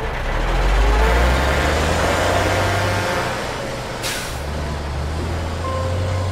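Heavy trucks haul away excavated dirt, engines rumbling low and continuous with a hiss of air brakes midway and a faint beeping tone, loud and close throughout.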